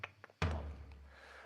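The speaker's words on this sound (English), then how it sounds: "This is the sound of the surdo." A single deep, booming hit on a surdo, the Brazilian bass drum, lands close and loud after a few faint light taps, then rings out with a long low sustain that slowly fades.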